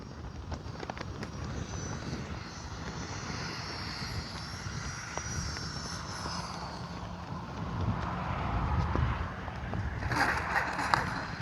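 An FMS 64mm EDF F-16 Thunderbird RC jet flies past with a steady whining ducted-fan roar, swelling louder toward the end, with wind buffeting on the microphone and no talk.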